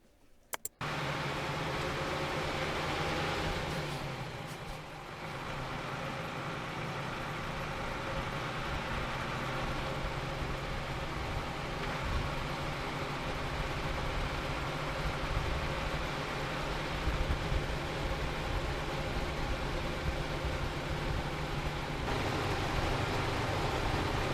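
An old Bedford coach engine running steadily on the road, heard close at the radiator with a constant loud rumble and heavy rushing air wash, a brief thump at the start and no talk.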